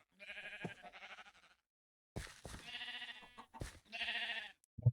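Video-game sheep bleating several times in short, nasal, wavering calls, close and clear, separated by brief silences, with no talking.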